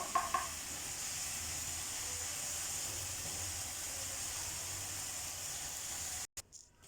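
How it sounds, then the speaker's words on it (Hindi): Spices and chicken sizzle in a hot pan as they fry: a steady, close hiss runs throughout with a brief clatter at the start, then cuts off abruptly near the end. "ये सारे मसाले इसमें डालकर अच्छी तरह से भून लें।"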